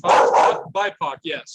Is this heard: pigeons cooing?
no